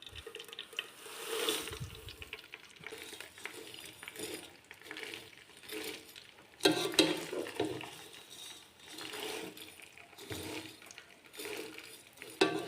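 Vermicelli roasting in cooking oil in a pan, faint scraping and stirring clatter with soft crackles, repeated in uneven bursts at close range and quiet throughout with no talking.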